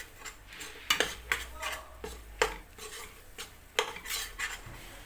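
A spoon stirs and scrapes in a pan where flour toasts in melted butter for a chickpea and corn soup, a few sharp metallic clinks over a soft low background with only faint sizzle.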